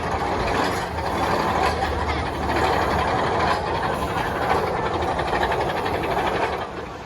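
Continuous rumbling and clattering of the Excalibur mine train roller coaster at Valleyfair running along its track, loud and close, with wind rush and no voices.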